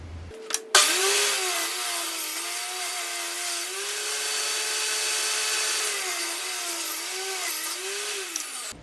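A power saw runs steadily, cutting wooden end pieces for a queen castle three-way mating nuc, with a loud continuous whine and rasp from start to finish.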